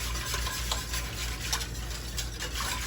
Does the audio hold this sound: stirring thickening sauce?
yes